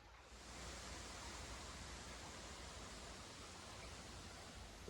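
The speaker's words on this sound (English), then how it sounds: "creek just flowing on by." Water of Tish Mill Creek flows steadily past a bench along the Ice Age Trail, a dense, even broadband rush that holds constant and fairly loud the whole time, with no talking.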